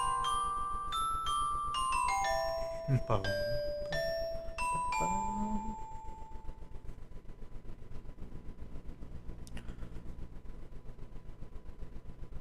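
Bell tones from a music composition being played back ring out in a descending pattern of bright, sustained strikes over the first six seconds, fairly loud, then give way to a low steady hum.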